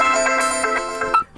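A ringtone preview plays on a Motorola Moto G100 smartphone, a bright tonal melody of quick repeated notes for just over a second before cutting off abruptly.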